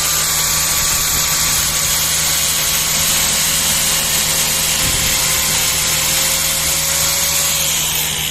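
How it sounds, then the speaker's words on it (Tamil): A grinder cuts PVC pipe with a loud, continuous high whine over a steady motor hum, running unbroken from start to finish with no speech. "நான் இங்கே கிரைண்டர் யூஸ் பண்ணியிருக்கிறேன்."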